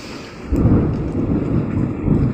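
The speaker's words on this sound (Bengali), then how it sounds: "আর কেমন মেঘ ডাকছে দেখুন" Thunder rumbles low and heavy during a pouring rainstorm, a continuous rolling growl that swells at intervals over the steady hiss of rain, with no voices.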